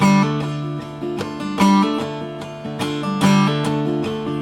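Electric guitar hammer-on notes ring out in quick pairs, each struck note followed by a smoothly sounded higher one, over a sustained droning chord.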